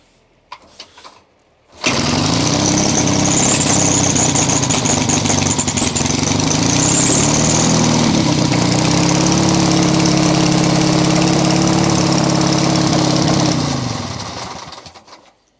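An old tube-frame BMW motorcycle engine sputters to life and settles into a loud, steady idle close by, then cuts out near the end.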